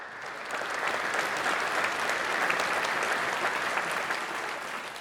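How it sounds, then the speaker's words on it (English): Applause from an audience at a multiple sclerosis symposium after an occupational therapy talk, a full, even clapping that rises quickly and holds for several seconds. "let's give Karen another round of applause."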